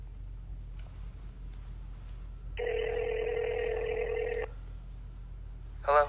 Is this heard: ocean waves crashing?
no